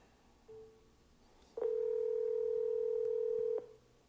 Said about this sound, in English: I'm gonna start the dialer right now.